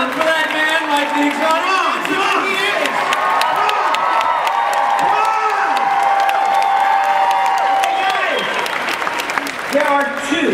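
Packed convention hall audience at San Diego Comic-Con cheering and applauding during a Psych panel, with steady loud clapping, scattered whoops and shouts, and voices talking over the din throughout.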